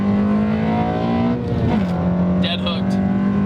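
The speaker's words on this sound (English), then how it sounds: "What happens when we do a second gear roll on?" A 2015 Honda Civic Si pulls hard in second gear with traction control off, its engine note climbing steadily and briefly dipping at a shift-like change before rising again, loud and close, with a short squeal near the end.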